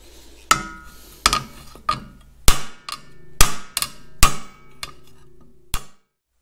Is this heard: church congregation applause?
no